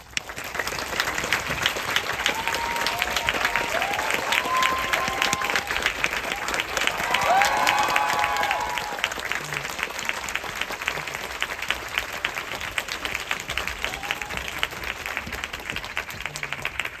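A cinema audience at a film Q&A in Korea applauds to welcome director Ildikó Enyedi and actor Tony Leung, with loud, sustained clapping and a few voices mixed in, running unbroken for well over fifteen seconds.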